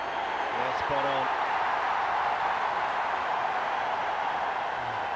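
A cricket stadium crowd cheers through a T20 game between India Legends and Sri Lanka Legends, a constant broad roar with a brief tonal call near the start, sustained evenly to the end.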